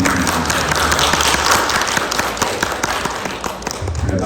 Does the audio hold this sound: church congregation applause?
yes